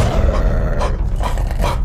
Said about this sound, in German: Wir haben einen Hund